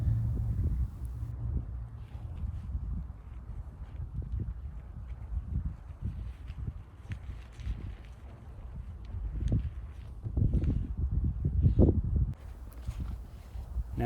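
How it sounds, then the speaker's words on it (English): Wind gusts buffet the microphone outdoors while a tarp tent is pitched for a hammock camp, a steady low roar rising and falling in waves, with rustling and soft footsteps mixed in. "I'm wrestling the wind a bit here"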